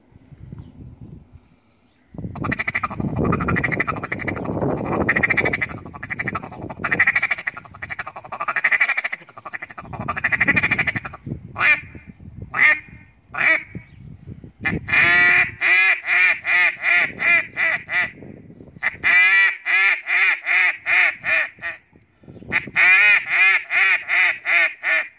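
A Reyoka duck call whistle imitating duck quacks, loud and close: a stretch of dense, raspy calling gives way to rapid rhythmic bursts of quacks in repeated series separated by short pauses.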